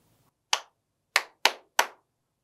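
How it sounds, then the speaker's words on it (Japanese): Four crisp hand claps in a simple rhythm at a children's body-percussion concert, one clap, a pause, then three quick claps, clean and close with silence between them. "まずは手拍子で"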